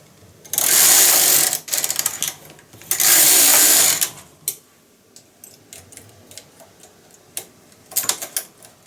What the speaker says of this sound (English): I'm knitting my last 2 rows before my last increase